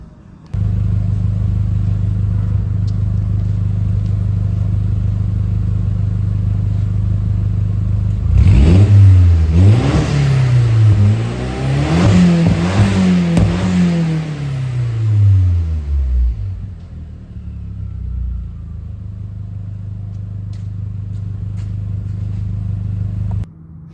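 A remapped Audi TT mk1 engine of about 300 bhp idles with a low hum, then revs hard several times in rising and falling bursts before settling back to idle, close up.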